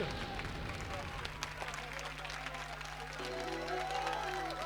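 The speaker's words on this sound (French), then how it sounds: "Encore plus d'applaudissements." Crowd at a packed esports event hall applauding and cheering a victory, a steady wash of clapping and crowd noise under an excited commentator's voice.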